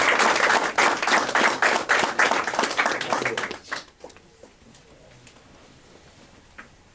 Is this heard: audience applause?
yes